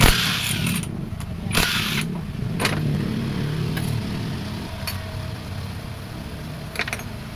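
An RS125 motorcycle engine, dirty and oil-caked, idles with a steady low rumble, punctuated by a few sharp clicks and metallic taps.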